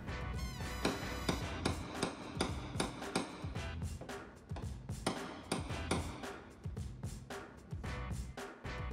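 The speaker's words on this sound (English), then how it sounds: "Reach for the hammers, knocking down the high sections on the panel." Metal hammers knocking down high spots on a dented car panel during paintless dent repair: a steady stream of rapid, ringing taps, close and fairly even in loudness, with no voices.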